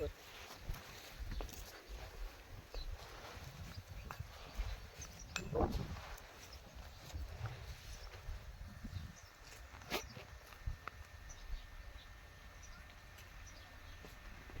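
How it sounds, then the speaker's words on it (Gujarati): Scattered light goat hoof taps and shuffling steps patter past at a moderate distance on a farm, with faint voices murmuring in the background. "બકરા જાય છે જોઈ શકો છો"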